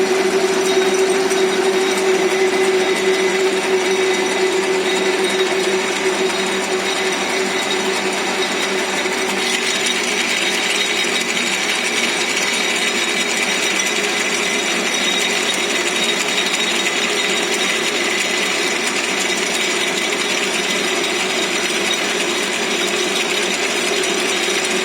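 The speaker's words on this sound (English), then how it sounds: "It is pressed against the workpiece, and the workpiece is made to run slowly, so that upon pressing, that embossing is done on the workpiece" A lathe knurling tool pressed against a slowly turning workpiece gives a steady mechanical grinding and ratcheting drone with a faint tonal hum, loud and continuous throughout with no voices.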